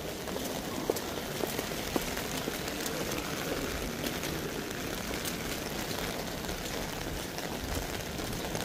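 Rain falls steadily, a soft, even patter of drops on surfaces that continues unbroken at a modest distance, with no voices heard.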